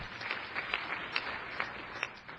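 Applause from a J Street conference crowd, with steady hand clapping and a few sharper individual claps standing out, fairly close and with no talk over it.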